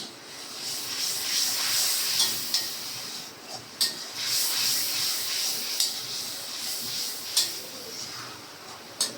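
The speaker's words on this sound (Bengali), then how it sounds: "আমার মশলাটা দেখেন প্রায় খুব সুন্দর করে কষানো হয়ে গেছে" Spice paste sautéing in a pan for a rohu fish head curry gives a steady, close hiss and sizzle. Sharp clicks and scrapes of a utensil against the pan break through it every few seconds.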